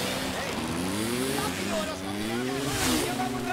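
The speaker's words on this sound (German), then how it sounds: "schön Mo-Kick fahren, ey" A moped engine drones and revs during a ride in the video game A Way Out, its pitch rising and falling steadily, with someone talking over it.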